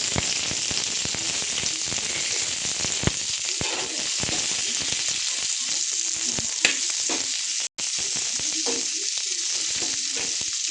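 Onions fry in a pan until brown, a loud continuous sizzle like heavy rain with occasional stirring scrapes, cut by one brief dropout.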